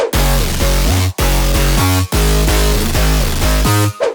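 Aggressive future house bass, a heavy distorted synth with growl one-shots layered on top, plays a choppy pattern of short stepped notes in bursts with brief gaps, loud and upfront with no voices.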